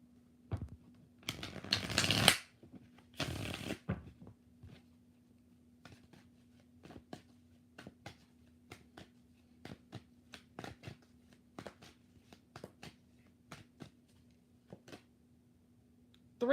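Tarot cards are shuffled close by in two brisk riffling bursts, followed by a long series of soft, separate taps and flicks as cards are handled and laid down, over a faint steady hum in a quiet room.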